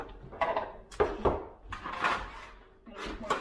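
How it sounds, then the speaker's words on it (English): Metal bread pans handled in a home kitchen, a few distinct clanks and knocks spread across a few seconds with light rustling between them, close and moderately loud. "Pans."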